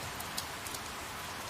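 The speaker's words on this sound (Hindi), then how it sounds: "बारिश तेज हो जाती है" Heavy rain pours during the rainy season, a dense, even hiss of drops with a few slightly sharper spatters, steady throughout with no voices.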